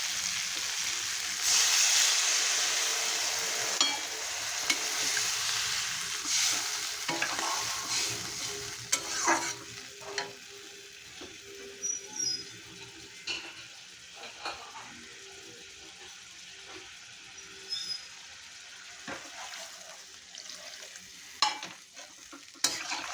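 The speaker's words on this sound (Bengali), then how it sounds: "এখন আমি দিয়ে দেবো জল" Sautéed pointed gourd greens sizzle in a pan and then take a pour of water, the frying giving way to a steady broad hiss broken by scattered clinks and scrapes of stirring over about twenty seconds, with no talking.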